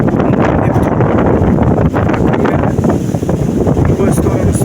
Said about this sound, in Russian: уже возле пляжа сильный ветер